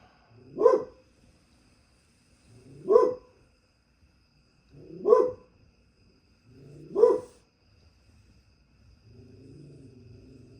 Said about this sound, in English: Ilio, what you barking at?